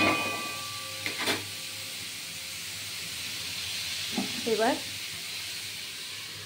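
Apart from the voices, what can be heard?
papaya frying slowly in a pan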